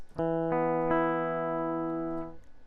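Three plucked notes from a virtual electric guitar instrument strike in quick succession and ring together as a sustained chord, slowly fading after about two seconds.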